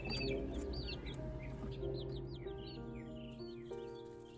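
Week-old chicks in a cardboard box brooder cheep in quick, high, rising peeps, several birds overlapping close by against a low background hum.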